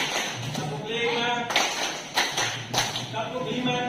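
Rhythmic group hand clapping in a teachers' workshop classroom, a few sharp claps spaced across the moment as a concentration clapping routine, with room noise and voices around it.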